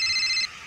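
A telephone rings once with a bright electronic warble, loud and close, cutting off abruptly partway through into near silence.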